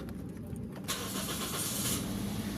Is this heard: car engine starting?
yes